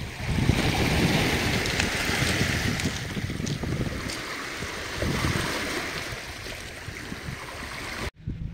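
Sea waves rolling in and washing over a shore on a Gelendzhik beach, a continuous near roar of surf with gusting wind buffeting the microphone, no talking, cutting off abruptly near the end.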